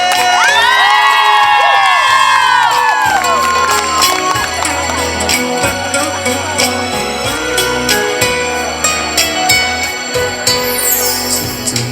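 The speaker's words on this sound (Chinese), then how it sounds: "给他们一个热情的掌声加尖叫声" A large crowd at an outdoor community festival performance in Changzhi, Pingtung, cheers, claps and screams loudly and continuously, with stage music and amplified voices running underneath.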